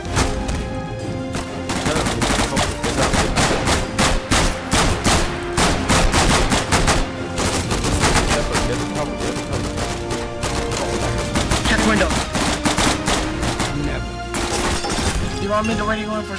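Rapid, loud gunfire rattles almost continuously through a Garry's Mod Axis versus Allies battle set in France, dense bursts and single shots layered close together with voices shouting over the din.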